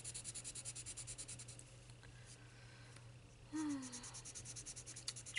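A colored pencil blender rubs back and forth on paper in soft, rhythmic strokes close to the microphone, with a few quiet background sounds.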